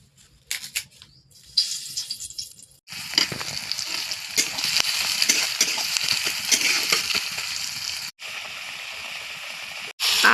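Potatoes and small prawns frying in hot oil: after a few quiet clinks and handling noises, a loud, steady sizzle begins abruptly and continues close up, briefly cutting out once before resuming.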